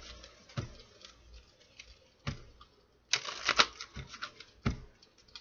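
A Kipper fortune-telling card deck is shuffled by hand, with sharp intermittent card snaps and a louder riffling burst midway, close and otherwise quiet.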